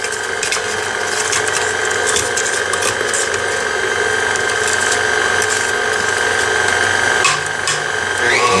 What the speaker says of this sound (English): We're gonna beat that egg in there for another minute or so